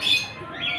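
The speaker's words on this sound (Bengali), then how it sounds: "অনেক পায়রা আছে, এই যে সাদা পায়রা" Pigeons, including white ones, call near an enclosure at a city science park in Kolkata, giving a short burst of squawking coos that fades briefly and returns, with no talk.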